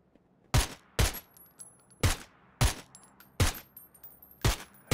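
Six sharp, loud gunshots crack out one after another at roughly half-second intervals in the battle royale game PUBG, each a close, punchy burst with a short tail, over a quiet background.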